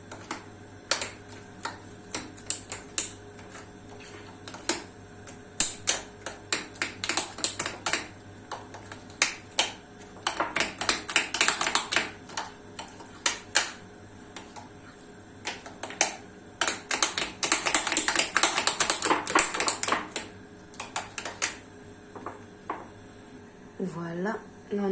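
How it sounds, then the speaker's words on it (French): Banana fritter batter with egg being mixed in a bowl, a series of quick clicking and tapping strokes in irregular bursts, with a voice talking in between. "Mélanger."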